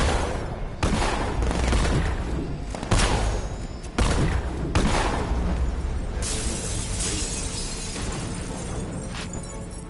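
Heavy gunfire in the Batman Arkham Knight video game, with loud sharp shots and bursts up close, mixed with crashing impacts and shattering, continuing as a dense barrage that tapers slightly.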